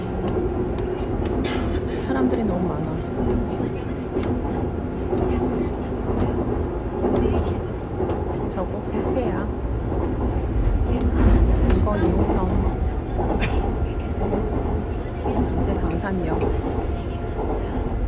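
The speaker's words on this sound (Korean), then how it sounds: "지하철 타고 집에 가고 있지롱" A subway car hums and rattles steadily while moving, with a constant low rumble and occasional squeals, as people talk nearby.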